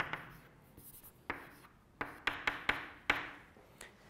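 Chalk or marker writing on a board in a set theory lecture: a run of sharp taps and short strokes with brief scratchy pauses, close and fairly clear over a quiet room, no talking.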